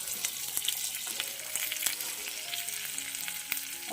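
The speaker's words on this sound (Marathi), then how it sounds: "चला मसाला भाजून घेऊया आपण कांदा घालते त्यात आणि लसूण आणि तेल घातलं बघा कढईमध्ये" Onion and garlic masala fries in oil in a kadai over a wood-fired chulha, giving a close, continuous sizzle with crackles and occasional stirring, with no talking.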